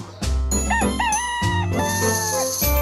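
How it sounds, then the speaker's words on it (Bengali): A cartoon rooster crows loudly and alone in a drawn-out, wavering cock-a-doodle-doo, with a bright musical ding chiming in near the end. "মোরগটি কুকুরুক কুক করে ডেকে উঠল"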